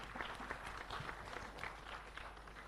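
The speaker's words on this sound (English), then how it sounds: "Let's clap for them." Faint audience applause for team number 6 at a quiz, scattered clapping heard from a distance over a low hum, steady and soft throughout.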